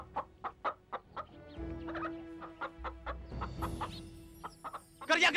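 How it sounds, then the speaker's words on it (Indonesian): A chicken clucks in short, repeated bursts close by, a steady rhythmic series of calls with a sharper squawk near the end. "Sekarang ambil ayam itu"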